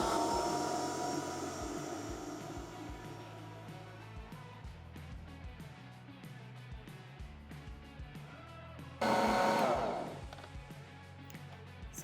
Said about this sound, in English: And plug in our mixer. And we're going to use the mix speed or the 4-speed, the fastest speed, to mix these ingredients in.